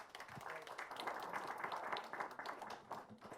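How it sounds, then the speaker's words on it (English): Applause from the audience at the Phil-India Trade Consultations, a FICCI business event, a steady wash of clapping that holds at moderate level through the whole span with faint voices mixed in. "A round of applause, please."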